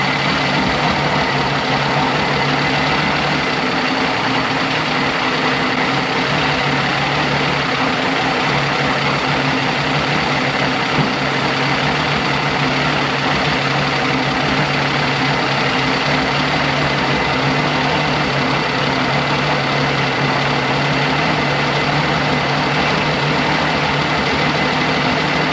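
A 1988 Johnson Evinrude 200hp outboard engine runs steadily at a loud, constant idle for the whole stretch, with no voices over it.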